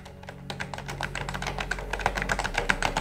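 Rapid, uneven tapping on a very old laptop's membrane keyboard, soft clicks in a steady stream, close up with no talking.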